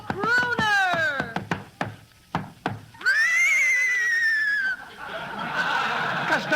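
A comic horse whinny on an old 1944 radio comedy broadcast, probably a performer's vocal imitation: a loud rising-and-falling neigh with snorts and chuckling sounds, followed by a long whinny.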